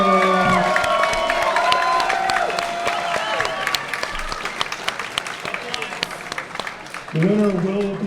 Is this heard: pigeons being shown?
no